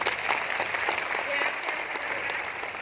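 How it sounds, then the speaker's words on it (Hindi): An audience at an RCM meeting claps loudly and steadily, a dense burst of applause with faint crowd voices underneath. "जोरदार ताली बजनी चाहिए आज।"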